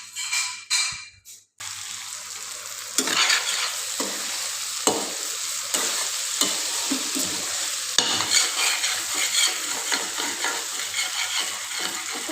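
Cauliflower fries in a hot pan with spices, a loud steady sizzle broken by repeated scraping stirs. A few brief clatters come before the frying starts.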